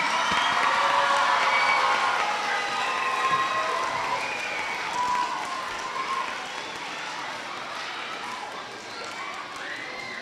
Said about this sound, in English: One more round of applause for these gentlemen